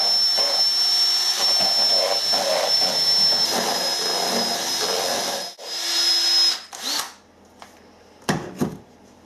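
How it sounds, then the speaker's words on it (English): An electric mixer whirs steadily while beating Yorkshire pudding batter, a close, high motor hum with a thin whine, then winds down and stops, followed by a few clatters. "Then with the mixer,"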